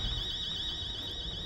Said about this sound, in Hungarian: Ja, de a riasztó beindul.